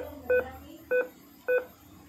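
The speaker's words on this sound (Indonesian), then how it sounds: "Nah, ini ada bunyi tut." Three evenly spaced short beep tones from an ICOM IC-706MKIIG radio transceiver with a PLL fault, each about a fifth of a second long, sounding clearly over a steady low hum.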